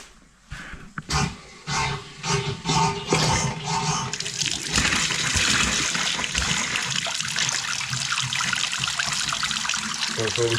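Water from a freshly restored house supply pours and trickles as toilet cisterns refill, a loud rushing hiss that starts in spurts then settles into a continuous flow.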